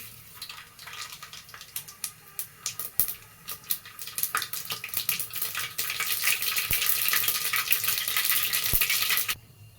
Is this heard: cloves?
yes